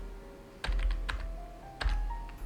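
Computer keyboard typing while writing Python code, a few close clicky keystrokes in small clusters, soft and sparse over a quiet background.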